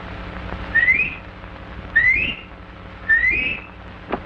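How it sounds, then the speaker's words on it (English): Three distinct rising whistles, evenly spaced about a second apart, clear and close, with a faint thump trailing after. "Three whistles."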